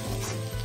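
Potato bhujia being mixed in a pan, a brief close sizzle with soft stirring scrapes, no voices.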